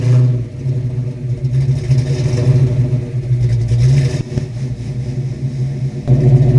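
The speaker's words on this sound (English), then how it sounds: "let's crank up the original 40s and see if they still deliver that raw, no-nonsense growl we all love" A Fox Body Mustang fitted with FlowMaster Original 40 mufflers rumbles with a deep, throaty exhaust burble. It swells gently at times and briefly drops out before picking up again, loud and close with no voices.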